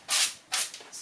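Cooking spray hisses onto sweet potato latkes in short bursts, two longer sprays followed by a brief third, close and crisp in a quiet kitchen.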